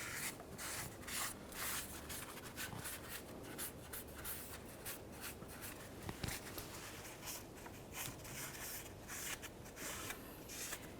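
Quiet, irregular scrubbing and rubbing strokes as an aluminum transmission housing on a 2010-2013 Ford Transit Connect is cleaned, scratchy bursts repeating close by without talk.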